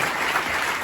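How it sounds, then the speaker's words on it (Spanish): Church congregation applauding during a Pentecostal service, a brief, steady burst of many hands clapping together at moderate volume. "denle un aplauso también"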